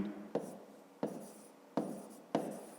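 A pen writes a math answer on paper, four short scratching strokes at regular intervals, close and quiet with no talk.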